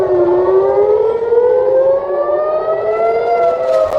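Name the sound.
air raid siren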